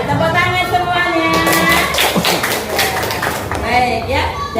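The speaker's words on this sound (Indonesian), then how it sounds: "Tepuk tangan semuanya." A class of primary schoolchildren in an Indonesian classroom claps in unison, the rhythmic hand claps mixed with loud group chanting and voices close by.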